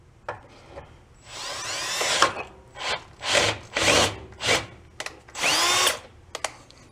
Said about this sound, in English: Crank her up the drill.